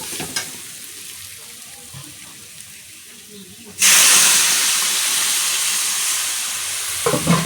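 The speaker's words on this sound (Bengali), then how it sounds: "এখন ঝোলটা ফুটতে থাকবে।" Prawn and elephant foot yam curry bubbling in a pan after water is added, a quiet low hiss for the first half, then a sudden loud, steady sizzling boil that holds to the end.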